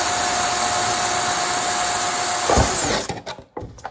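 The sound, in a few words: power drill drilling drainage holes in a plastic milk jug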